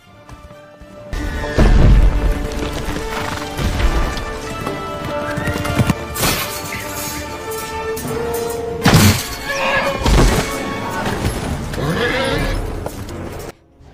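Galloping war horse hooves thud and clatter through a loud, dense World War I battle film scene, with whinnying and crashes layered over orchestral music throughout.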